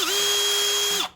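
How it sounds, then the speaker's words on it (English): Cordless power drill boring out an existing hole in a vehicle chassis rail, a steady high whine held close and loud for about a second before winding down, with no talk. "there's a hole I need to drill there in this chassis rail"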